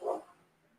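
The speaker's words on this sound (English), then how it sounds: "my dogs are out there flipping out. I got two big ass Rottweilers patrolling the perimeter" Two big Rottweilers barking outside, a single short muffled bark heard at a distance, followed by quiet.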